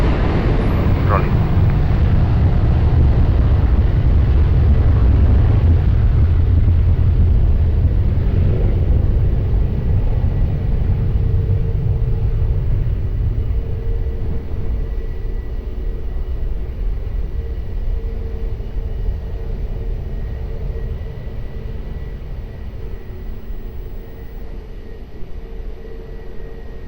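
A passenger plane takes off from runway 20 at Lisbon Airport, its jet engines roaring in a heavy low rumble that slowly fades as it climbs away, while radio chatter carries over the top.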